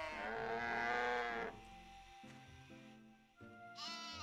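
Cows in the farming game My Time at Portia moo in a long, low call, then a few shorter lowing sounds and a higher bleat-like cry, fairly quiet and alone.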